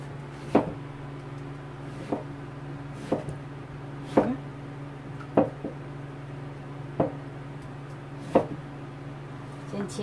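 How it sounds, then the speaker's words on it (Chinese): Peeled cucumber sliced on a cutting board, about eight sharp knife chops landing at a slow, irregular pace, close and distinct over a steady low hum. "再来就把它切片"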